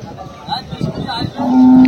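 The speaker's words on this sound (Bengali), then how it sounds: "সুন্দর ষাঁড়" A low, sustained moo from a nearby bull at a cattle market swells at the end, after a moment of muffled voices and crowd murmur.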